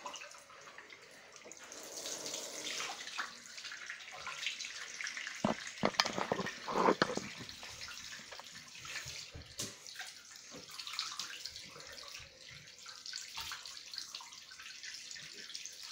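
Warm tap water runs steadily into a basin while someone washes off their face, a faint, continuous hiss broken by a few closer splashes from hands in the water.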